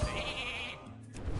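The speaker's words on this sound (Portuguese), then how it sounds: "Vira uma ovelha." A sheep bleat from the Hearthstone card game plays as a minion is transformed into a sheep, a single wavering bleat that stands alone and is fairly faint against the game's background.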